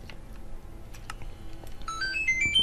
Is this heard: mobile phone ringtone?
yes